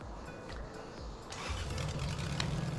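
A Lexus 1UZFE V8 swapped into a Jeep cranks with a few rhythmic starter pulses, then catches and settles into a low, steady idle rumble at moderate distance.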